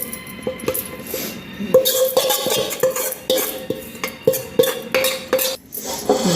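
Roasted dried coconut is scooped and scraped out of a pan with a metal spoon, making repeated close clinks and scrapes in an uneven rhythm with short pauses between strokes.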